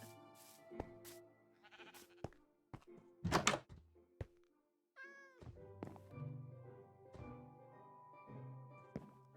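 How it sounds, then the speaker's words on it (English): A cat meows once with a rising, wavering cry in the middle of the stretch, surrounded by thumps and clattering knocks, fairly quiet and close with no talking. "Cat."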